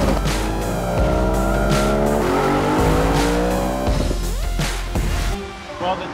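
A race car at a ride-and-drive event roars through a fast lap, engine note rising and falling through gear changes while tires squeal and skid loudly and continuously up close.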